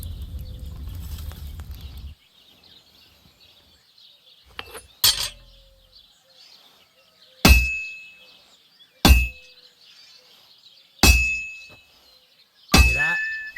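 Hammer blows ringing on an anvil at a forge in Kingdom Come: Deliverance II: five sharp, bright metallic clangs spaced a second or two apart, each decaying with a ringing tail, after a brief low rumble of fire.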